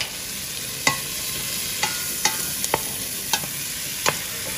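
A whole unpeeled garlic clove and fresh thyme frying in a pan, a steady close sizzle broken by several sharp spits and crackles, with no one talking.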